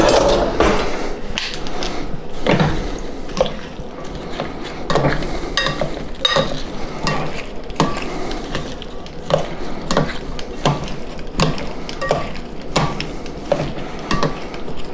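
A tomato salad with onions and a sprinkle of black pepper is tossed in a bowl, giving steady close scraping, rustling and clattering throughout with no talking.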